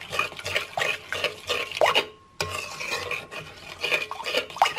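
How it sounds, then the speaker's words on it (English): Melting chocolate stirred in a bowl, with rhythmic close scraping and soft tapping of a utensil in repeated strokes, broken by one brief pause midway before the stirring resumes. "just mix all of the chocolate in"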